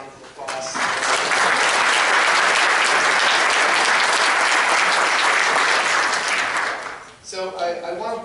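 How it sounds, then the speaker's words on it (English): Loud, full applause from a conference audience at a criminal justice panel, swelling quickly and holding steady for several seconds before fading, with a voice speaking at the end. "Please give them a round of applause"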